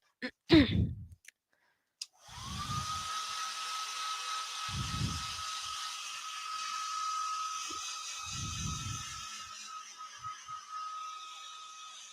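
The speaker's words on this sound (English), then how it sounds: "So I'm going to hairdryer it." After a few clicks, a hair dryer switches on and runs with a steady whirring hum, close by, drying a woodturning piece, while breathy puffs occasionally come and go.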